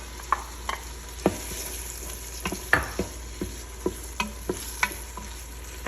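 Tomato is tipped into a hot frying pan for Filipino-style chicken madrooba and stirred, giving a steady close sizzle broken by a dozen or so sharp scrapes and clacks of the spoon against the pan.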